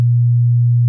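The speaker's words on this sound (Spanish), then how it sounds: "Una onda con 120 hercios de frecuencia tiene este aspecto y suena así." A steady 120 Hz sine wave test tone, low and pure, holds at constant loudness for about a second with no other sound.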